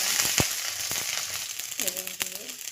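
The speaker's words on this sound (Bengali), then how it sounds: "এবার আমি ফোড়নে দেবো রসুন, চেরা লঙ্কা" Garlic and slit green chillies sizzling in hot tempering oil, a crackling fry with sharp pops near the start, faint and close, with a brief voice-like tone near the end.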